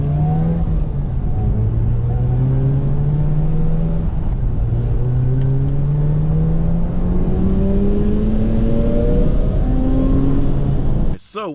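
A 66,000-mile Mazda RX-8 rotary engine revs repeatedly through heel-toe downshifts, with rising and falling pitch sweeps heard loud and close from inside the car, ending with a sharp brief blip.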